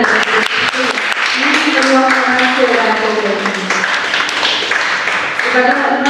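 An audience at a university talk program applauds an invited panel, with a steady patter of clapping running beneath a clear, prominent speaking voice throughout.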